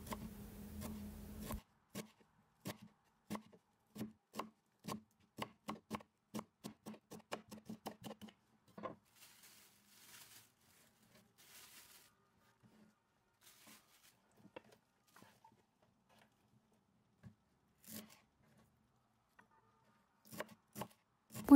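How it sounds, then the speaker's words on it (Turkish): A knife chops dill rapidly on a cutting board, a quick run of sharp taps that slows, pauses, then returns in scattered strokes. "Kalanları da aynı şekilde doğramaya devam ediyorum."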